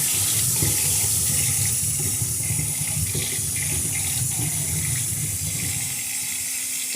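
Tap water runs steadily from a faucet into a sink while potatoes are washed for a crab boil, a continuous close splashing hiss with no speech.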